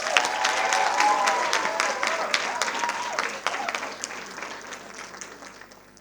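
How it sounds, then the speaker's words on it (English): An audience at a women in media and communications panel discussion applauds a speaker, with steady clapping that is loud at first and then gradually thins and fades. "A big round of applause for her, please."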